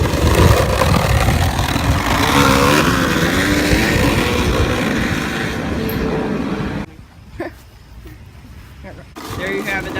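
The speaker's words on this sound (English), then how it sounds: "That's Charlie's new exhaust." A motorbike fitted with a new exhaust revs loudly and close, the engine roar rising and falling for several seconds before dropping away, then returning briefly at the end.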